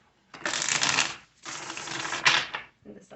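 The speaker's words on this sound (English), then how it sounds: "This will be our last shuffle." Tarot cards shuffled by hand close up: two long, dense riffling bursts separated by a short pause, then a brief final flutter, with no voices.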